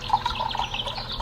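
Water glugs and splashes as a bottle taken from a fridge is drunk from, a short, close sequence of rhythmic liquid gulps heard alone.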